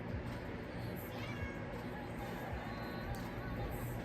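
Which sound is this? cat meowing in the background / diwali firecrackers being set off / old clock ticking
cat meowing in the background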